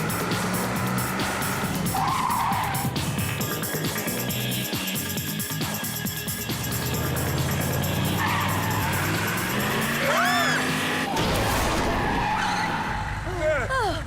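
Cartoon car driven hard like a rally car, with a loud, sustained engine roar, repeated tire squeals and skids, and dense sound effects throughout, voices briefly heard over the racing noise.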